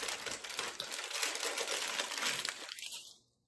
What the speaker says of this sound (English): We are going to wrap the bottom in aluminum foil,